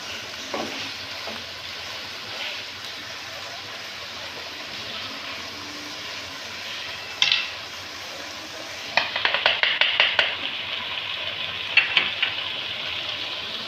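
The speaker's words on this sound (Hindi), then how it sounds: "तो बस हम इसको हल्का सा ही भूनकर और अपने मसाले शामिल कर देंगे।" Cooked chana dal lightly frying in a pan, a steady soft sizzle that grows louder and crackly toward the end, with scattered stirring clatters against the pan.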